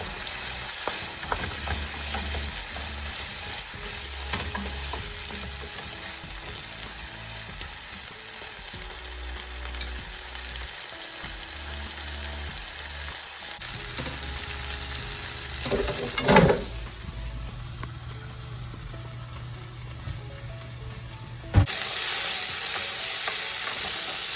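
Steak and peppers fry in a hot pan with a steady close sizzle, broken by occasional stirring scrapes and a brief clatter, then a louder burst of hissing near the end, with no talking.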